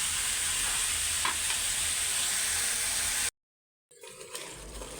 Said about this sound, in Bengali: তো করলা ভাজিটা হইতে থাকুক।